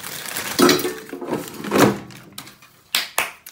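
Sausages drop into an air fryer basket, making a few sharp clunks and rattles of metal and food against the basket, close and loud, with a couple of quick knocks near the end.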